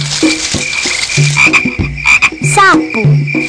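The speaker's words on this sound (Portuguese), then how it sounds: "Sapo." A toad's croaking repeats in short bursts, several rough calls in a row, with a higher chirping trill layered over a steady background.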